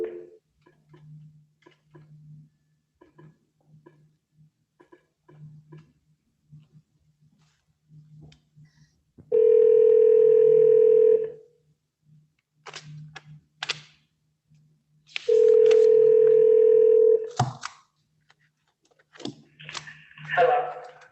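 Speakerphone call being placed: a low hum and scattered clicks, then two long steady tones of about two seconds each, separated by clicks and dialing taps, with faint background noise between them.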